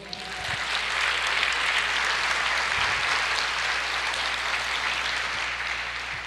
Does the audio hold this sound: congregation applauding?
yes